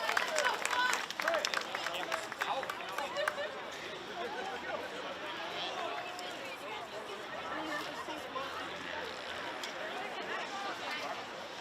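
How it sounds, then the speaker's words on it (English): Audience applause for weekend podium finishers at a racing series prize-giving in Genk, broad and steady from start to finish with crowd chatter mixed in, louder in the first few seconds. "So please give your Micromax weekend podium a round of applause."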